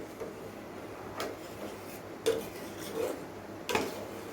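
Milk being stirred in a pot for tok doi, a spoon scraping and clinking against the metal sides in a few sharp knocks spaced over quiet background.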